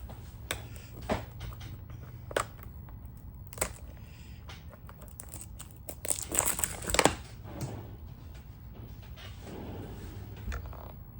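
Plastic wrap crinkling and crumpling as the packaging comes off a brand new Hi8 video tape, close and fairly quiet, with scattered sharp crackles and a louder burst of tearing and crushing about two-thirds of the way through.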